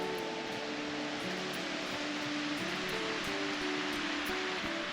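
Erskine Creek in Glenbrook National Park flows in a steady, even rush of water near a wild swimming spot, a soft continuous wash heard alone, with low tonal hum running beneath it.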